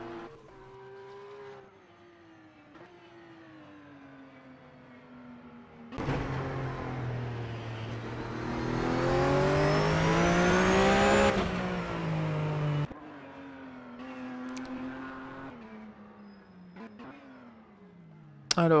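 A Porsche Supercup race car, number 69, driving to the starting grid at a Russian round, its engine droning steadily, then swelling into a louder rising roar before dropping back to a lower hum.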